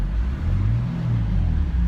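BMW M4 convertible driving, its engine and exhaust giving a steady, loud low rumble with a slight rise and fall in pitch, close and continuous with no talk.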